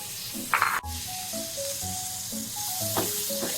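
Chopped tomatoes tipped into hot oil in a frying pan for a fish curry, setting off a loud, steady sizzle and hiss with a sharp burst at the start, under a soft tonal background.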